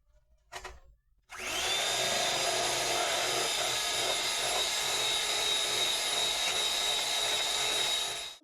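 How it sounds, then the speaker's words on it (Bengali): An electric hand mixer starts abruptly after a brief clatter and runs at a steady, loud, high-pitched whine, beating eggs for cake batter until the end. "প্রথমে ডিমগুলো ফাটিয়ে নেবো ইলেকট্রিকের সাহায্যে।"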